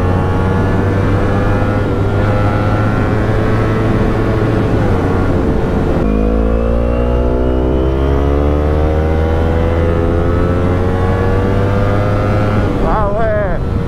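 A Kawasaki Ninja 250R being ridden sends a loud, steady engine drone that shifts pitch partway through as the revs change, then climbs again, with a rider's voice heard over it.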